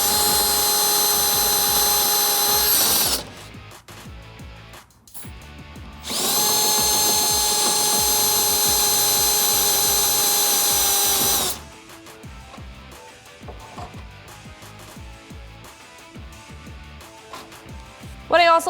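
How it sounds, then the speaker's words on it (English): A power drill with a step drill bit bores a hole through a Smittybilt XRC steel rear bumper on a 1987-2006 Jeep Wrangler YJ/TJ, two loud sustained whining runs separated by a pause, followed by clattering handling noise. "What I also like about the step bit is that it's a little bit safer compared to a regular drill bit."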